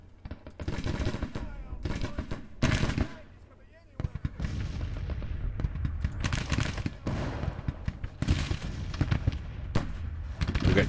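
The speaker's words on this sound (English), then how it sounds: "Artillery's firing." Artillery and musket fire in the Civil War strategy game Grand Tactician, a dense barrage of booming shots and crackling volleys, loud and continuous with brief lulls, a voice speaking over parts of it.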